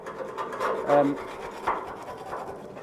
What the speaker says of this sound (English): dislodge a load of this rust in here, hoover it out